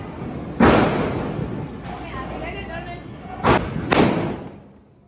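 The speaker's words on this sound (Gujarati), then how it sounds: "તો ગાઈસ જો પહેલી તે શરૂઆત આપણે ફટાકડા ફોડવાની સુતળી બોમ્બથી કરી." Sutli bomb firecrackers bursting during Diwali celebrations: three loud, sharp bangs, one early and two close together near the end, with voices and background noise between them.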